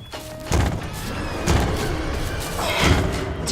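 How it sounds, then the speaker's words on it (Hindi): Heavy knocks on a door, used as a horror story sound effect, land as three separated, booming thuds over a continuous dark ambient rumble. "पीछे से दरवाजा खटखटाने की आवाज और उस अजीब सी चीख की आवाज आने लगी"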